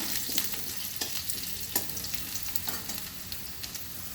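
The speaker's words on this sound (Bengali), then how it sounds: "আলু দিয়ে দিলাম প্রথমে" Potatoes just added to hot oil with tempered spices sizzle loudly and evenly, with light stirring clicks scattered through about four seconds and no voices.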